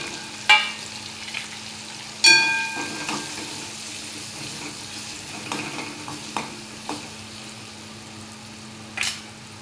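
Red chili powder, turmeric, salt, garam masala and coriander powder sizzle in a pan for a ridge gourd stir-fry, a steady low frying hiss with a few sharp utensil clinks and stirring scrapes, close and alone.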